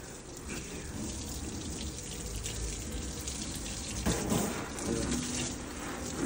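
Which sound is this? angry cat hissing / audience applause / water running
water running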